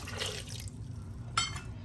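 Pasta water pours briefly into a pan, a short liquid splash and trickle followed by a small clink, quiet and close.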